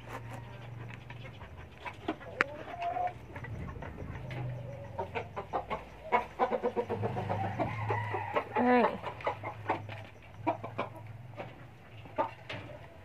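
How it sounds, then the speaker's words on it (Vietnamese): Chickens cluck near a coop, a busy run of close clucks and squawks with one rising call midway, while a dog pants nearby and background noise hums underneath. "Rồi giờ tiếp tục vào cho mấy chú gà trong lòng của mình nè"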